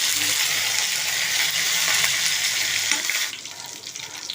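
Cumin seeds and fresh curry leaves hit hot oil in a pan for a beans curry, giving a loud, dense, steady crackling sizzle that drops abruptly to a quieter hiss near the end.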